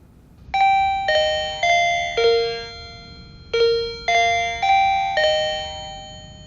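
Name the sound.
Arlec DC678 wireless door chime sounding after syncing with remote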